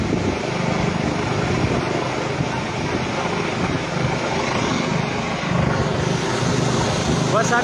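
A helicopter descends near a chairlift in Battagram, its rotor and engine making a loud, steady drone throughout while someone talks over it.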